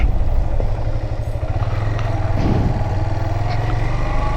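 A motorbike engine drones steadily while riding through the Chittagong University campus, a close, continuous low hum with light road rumble.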